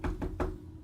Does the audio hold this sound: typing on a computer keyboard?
no